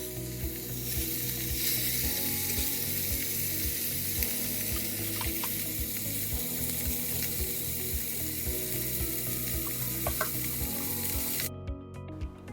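A filet mignon steak searing in a hot pan over medium-high heat, producing a continuous close sizzle with crackling pops that lasts throughout and then cuts off near the end.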